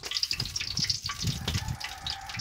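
Water gushes and splashes into a cooking pan during preparation of a chilli chicken dish, a close, continuous pouring sound with fluctuating splashes.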